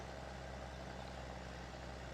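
An old tractor idling in Farming Simulator 22, a steady low rumbling engine hum held evenly and fairly close, with no voices over it.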